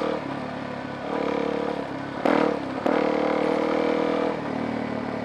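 A motorcycle engine runs steadily while being ridden, a close continuous drone with two brief louder bursts partway through, no talking.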